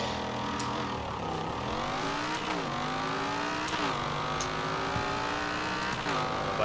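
A Dodge Viper engine in the video game Forza Horizon 4 revs and accelerates through repeated gear shifts, each climb in pitch dropping back and rising again, loud and steady.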